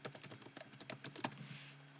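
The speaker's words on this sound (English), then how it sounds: "we're going to start typing network status" Quick, uneven keystrokes on a computer keyboard, about a dozen light clicks in a fast burst that slows near the end, close and fairly quiet with no voices.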